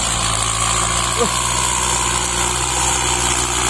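A Kubota M6040 tractor engine idles with a steady low rumble and vibration, close by and constant throughout, with no talking.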